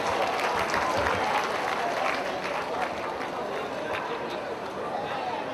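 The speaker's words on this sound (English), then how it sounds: "Applause, please." Wedding guests applaud steadily throughout, a dense, fairly loud wash of clapping that holds level from start to finish with faint crowd murmur mixed in.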